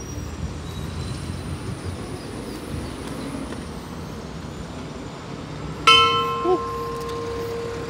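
An old bell hanging on a fortress wall in Campeche is struck once near the end, a sharp metallic clang that rings on with a long resonant hum over steady outdoor wind and background rumble.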